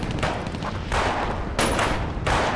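Sustained automatic gunfire from a war battle scene between Japanese and Chinese forces, loud dense bursts of rapid shots with brief swells and no talk over them.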